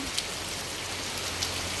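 Steady rain falls in a dense, even hiss, with a few louder drops pattering on a nearby surface.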